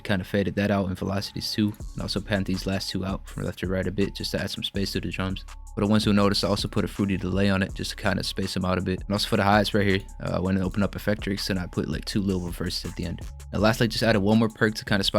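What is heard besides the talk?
No distinct noise like a dog, phone or traffic.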